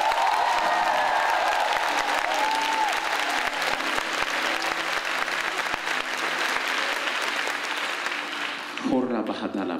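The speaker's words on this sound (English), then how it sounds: "Clap like Africans once." A congregation at a prophetic teaching church service claps loudly and continuously for nearly ten seconds, a full sustained applause that drops off abruptly near the end as a voice comes in.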